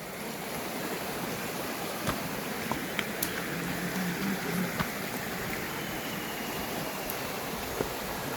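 Steady rushing water of a waterfall at Devotakhum in Bandarban, a broad continuous wash of noise heard from nearby with no talk over it.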